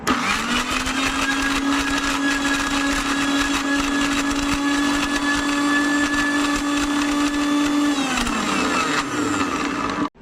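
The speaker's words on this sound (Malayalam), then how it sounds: "ഞാനിതിൽ നല്ല കുറുക്ക് പരുവത്തിന് ഞാൻ ഈ പഴം അടിച്ചെടുത്തിട്ടുണ്ട് കേട്ടോ" A mixer grinder blending ripe banana into a thick paste in its jar, a loud, close, steady high whine that runs for about eight seconds before spinning down and stopping.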